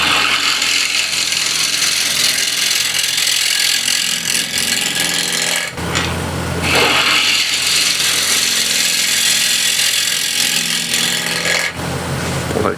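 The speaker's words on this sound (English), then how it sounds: "I'll be grabbing ball gouge just to skim the top here" A ball gouge skims the face of a walnut or cherry plate spinning on a lathe at around 1250 rpm, a loud, steady rasping hiss of cutting that breaks off briefly twice before resuming.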